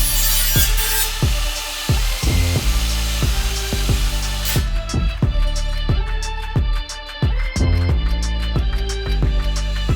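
Steel body panel being cut off a VW T4 Multivan during major rust repairs, a loud, close, continuous power-tool grind with repeated rhythmic strokes and no talking.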